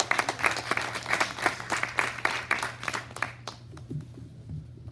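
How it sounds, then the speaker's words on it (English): An audience at a youth media summit applauds a speaker with steady, close clapping that fades out after about three and a half seconds, leaving quiet room tone and a faint hum. "So please give Anne a round of applause."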